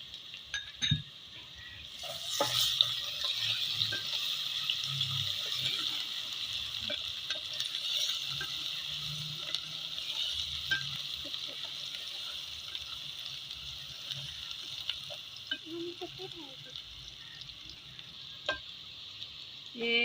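Garlic and ginger paste fries in a pan for mustard greens saag, a steady soft sizzle with occasional stirring clinks and quiet speech over it.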